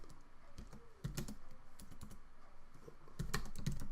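Irregular keystrokes on a computer keyboard while an animation is assembled in Adobe After Effects, clicking close and clear in uneven bursts and short clusters, with no talking.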